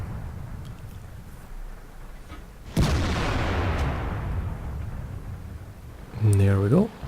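A tank's main gun fires once in World of Tanks, a sharp loud blast followed by a long rumbling decay, then a second booming report with a rising whine near the end, over engine rumble and wind.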